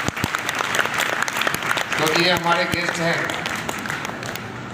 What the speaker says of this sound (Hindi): इनका भी सम्मान जोरदार तालियों से होना चाहिए